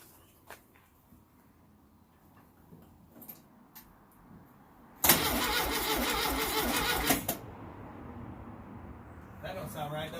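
A Baja Bug VW engine cranks for about two seconds, a loud fast rhythmic chugging turning over without catching, set between quiet clicks and shuffling, with another short burst at the end.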